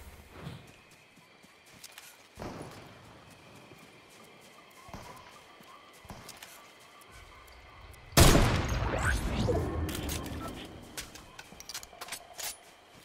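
Gunfire in the Fortnite video game, scattered distant shots and muffled pops followed by a louder burst of rapid shooting and noisy impacts partway through.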